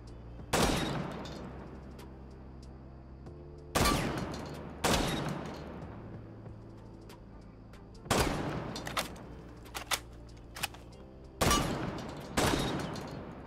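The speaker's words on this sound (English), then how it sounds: "I'm definitely seeing a noticeable difference when you are shooting the chest versus the head" Shotgun blasts from Cav's shotgun in Rainbow Six Siege, about six loud booming shots spaced irregularly, each with a long decaying tail, plus a few lighter clicks between them, no talk.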